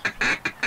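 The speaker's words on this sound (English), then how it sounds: "Hey, there's another flock over there." Four quick, loud, nasal quacks in a bouncing rhythm from a duck call in the Duck Dynasty PC hunting game, close and clear with nothing else behind them.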